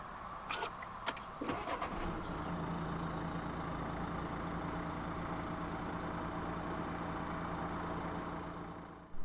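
The 1.6 dCi diesel engine of a 2016 Nissan Qashqai cranks briefly and catches, then settles into a steady, even idle heard from inside the car, with a few clicks at the start and no talking.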